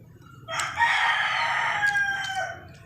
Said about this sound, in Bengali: সকালবেলা আমার মুরগি এরমই করে আমার সাথে